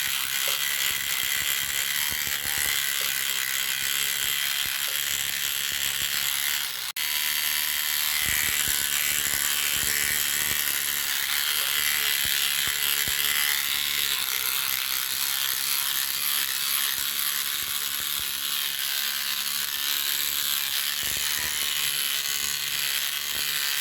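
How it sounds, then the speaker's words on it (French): A rotary cleaning brush from Action runs with a loud, steady mechanical whirring and rattle, broken by a brief dip partway through before it carries on. "Là, je vais tester cette brosse, la brosse là."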